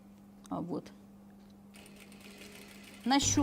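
Sewing machine top stitching the collar of a white cashmere jacket, in two short bursts: a brief run early on, then a louder run starting near the end, with quiet room tone between.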